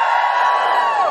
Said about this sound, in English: Give us a cheer if you're more feminist than guilty